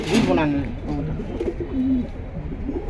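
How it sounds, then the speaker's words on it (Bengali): Pigeons coo in soft, repeated throaty phrases at a pigeon seller's stall in Bangladesh, close and clear, with voices talking faintly in the background. "অরিজিনাল বেজি কবুতর"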